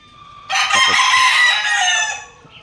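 A young stag rooster with a white straight comb crows once nearby, a loud, drawn-out call lasting about a second and a half, with faint clucks before it.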